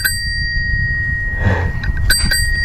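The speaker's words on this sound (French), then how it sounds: "Petit coup de sonnette." A crisp bicycle bell rings with sustained metallic tones, followed by a couple of quick extra dings near the end over a low outdoor rumble.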